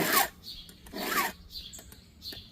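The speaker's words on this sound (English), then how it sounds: "So it takes maybe 15-20 minutes to sharpen a blade." Rhythmic rasping strokes of a file sharpening chainsaw teeth, a few slow passes close by with brief pauses between them.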